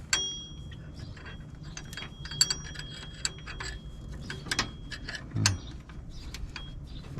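A 14 mm socket wrench ratchets on the alternator of a 2004 Honda Accord EX 2.4 L, giving quick, uneven clicking bursts up close with a few sharper metallic knocks and no talking.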